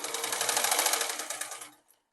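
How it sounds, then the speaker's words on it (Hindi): Domestic sewing machine running a rapid, steady stitch burst while back-stitching a ladies' salwar, loud and close, then slowing and stopping after about a second and a half. "फिर से मैं बैक सिलाई लगा दूंगी"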